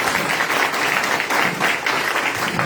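A church congregation clapping their hands together in praise, a loud, dense burst of many hands beating in rhythmic waves, with no clear talk over it.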